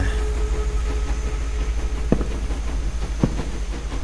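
A train rumbles past in the horror video game Evil Inside, with a loud, steady low roar and two sharp metallic clacks partway through. It plays alone, with no talking.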